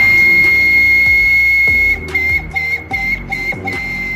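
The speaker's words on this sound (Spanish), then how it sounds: "aparecía el manicero con un silbido fuerte" Loud, steady high whistle from a peanut seller's train-shaped roasting cart, driven by steam pressure from hot embers, sounding continuously over a busy mix of background street and evening sounds.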